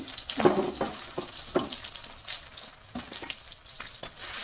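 Onion and chopped tomato frying in a pan while being stirred for a crab curd curry, with a steady soft sizzle broken by scraping spatula strokes, close and moderately quiet, no voices.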